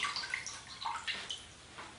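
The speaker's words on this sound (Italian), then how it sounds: "Estraggo il mio tessuto che è stato lasciato precedentemente in ammollo nell'acqua" Fabric being lifted out of soaking water for onion-skin natural dyeing, with soft splashes, drips and trickles coming in small irregular bursts, close and fairly quiet.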